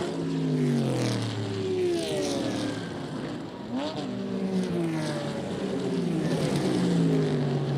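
Race cars including a Corvette and a Porsche at speed on the Lime Rock Park track, engines whining and shifting pitch as they pass and accelerate, loud and steady with a faint commentary voice underneath.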